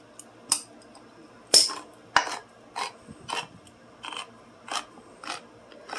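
A can of Hormel chicken is opened by its pull-tab: a sharp metallic pop, then a series of crisp scraping and tearing clicks at a steady rhythm as the lid peels back, close and clear against quiet.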